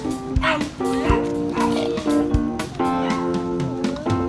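Excited dogs bark and yip repeatedly at close range, sharp loud barks mixed with whimpers in an uneven rhythm, with people talking over them indoors.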